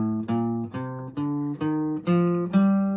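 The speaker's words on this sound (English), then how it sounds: "we're going to do a G natural minor scale." A guitar plays a G natural minor scale, seven clean plucked notes in an even, moderate rhythm, each ringing briefly before the next, close and alone with no voice.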